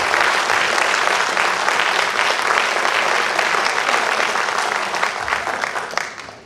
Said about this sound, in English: give these people a nice party, a hand clap very quick